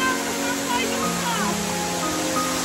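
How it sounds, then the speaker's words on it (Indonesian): Steady broadband rush of a waterfall fills the clip, with people talking over it. "Selamat tinggal air terjun indah."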